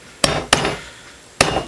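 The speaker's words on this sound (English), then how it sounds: "So I just take a little punch there and get a little starter" A small center punch is struck three times on aluminum. Two sharp metallic taps come close together, then a third follows after a pause, each ringing briefly.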